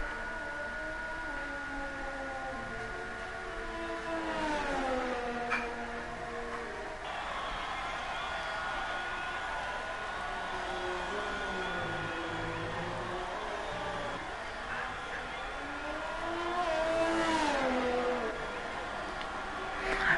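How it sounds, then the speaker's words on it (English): A Ferrari SF1000 Formula 1 car in a racing video game laps the Red Bull Ring. The engine whines steadily at moderate volume, with its pitch rising and falling through gear changes and corners. "let you enjoy the noise of the Ferrari around the Red Bull Ring"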